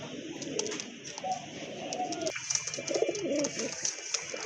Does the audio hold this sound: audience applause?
no